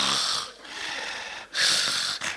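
A voice mimics snoring with repeated harsh, wheezy breaths, two long rasping pulls split by a short pause, then a clipped snort at the end.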